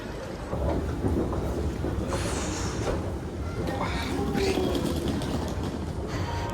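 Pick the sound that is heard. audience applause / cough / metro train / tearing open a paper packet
metro train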